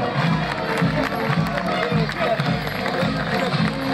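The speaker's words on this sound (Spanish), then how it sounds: "Fuerte, fuerte, fuerte el aplauso." A crowd applauds and cheers at a rodeo riding event in Esquina, Corrientes, a dense, steady roar of clapping and voices heard throughout, with an announcer talking over it.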